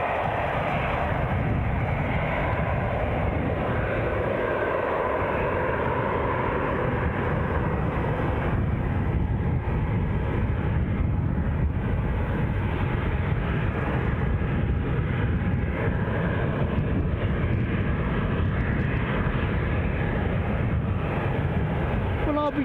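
An EasyJet Airbus A319 departing Edinburgh Airport bound for Belfast produces a dense, continuous engine roar that stays loud and steady throughout the long stretch.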